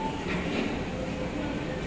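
An underground train runs at a station in Hong Kong, a steady rolling rumble and rail noise filling the short stretch, with people talking faintly in the background.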